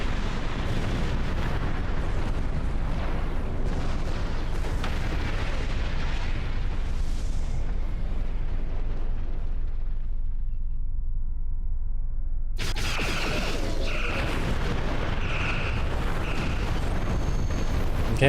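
Turrets on a space station blow up in a Star Trek video game: a dense, roaring barrage of booms and blasts, loud and continuous, with a brief thinner lull before the rumbling explosions return at full force.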